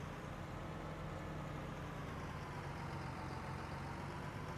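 A tractor engine in Farming Simulator 19 holds a steady, low idling drone throughout, faint and unbroken, with no other sounds on top.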